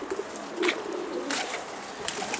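Pigeons mill about together after their coops are opened, giving soft cooing calls and brief bursts of scattered bird sound, moderately close and steady throughout with no talking.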